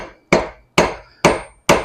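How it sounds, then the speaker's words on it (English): Four sharp, ringing hammer blows land on a spoon handle clamped in a vise in a blacksmith shop at Sutter's Fort, spaced about half a second apart, each decaying quickly, close and loud with no talk. "And then just nice taps with the hammer"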